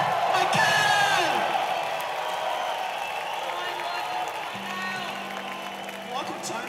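Concert crowd in Mexico City applauding and whooping for the drummer, a broad roar of clapping and cheers that is loudest at the start and then eases into steady crowd noise with a low hum near the end.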